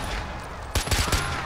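Gunfire in the Far Cry 4 video game, a quiet bed of ambience giving way to several sharp close shots in quick succession near the end.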